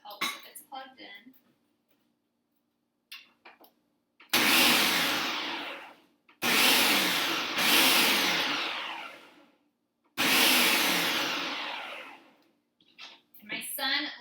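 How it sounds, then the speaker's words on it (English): A food processor pulsing to shred zucchini, four loud motor bursts of one to three seconds each with short gaps between them, and brief speech before and after. "I'll show you a way to shred this easy using your food processor as well."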